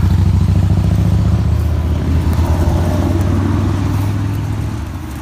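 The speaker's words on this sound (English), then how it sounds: "Sorry about all the traffic noise" Road traffic rumbles past a backyard vegetable garden, a loud, steady wash of engine and tyre noise holding throughout with no break and no voices.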